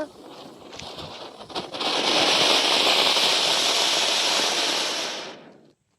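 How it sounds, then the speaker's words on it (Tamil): A Diwali firecracker goes off with a sharp crackle, then a loud hissing, sputtering burst that holds for a few seconds before cutting out. "டாக் வெடி."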